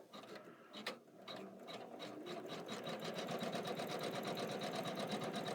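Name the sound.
embroidery machine stitching vine stem with green thread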